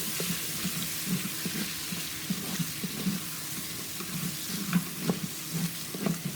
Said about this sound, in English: we're gonna let this saute up